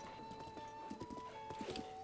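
Horse hooves clip-clopping in The Legend of Zelda: Breath of the Wild, a quiet rhythmic patter of game footsteps over a steady tonal background hum.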